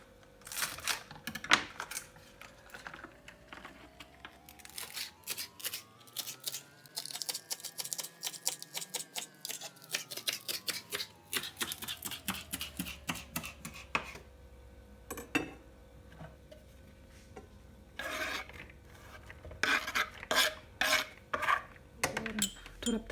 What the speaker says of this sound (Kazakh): Және де зеленді турап аламыз.